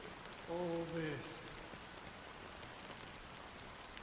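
Steady rain pattering through a scene in the video game Honkai: Star Rail, set in Penacony, fills the whole stretch as soft, even hiss; a brief voice rises over it near the start.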